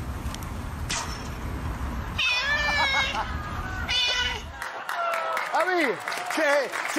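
A cat meows several times in drawn-out, rising and falling cries, with people talking and laughing around it in French.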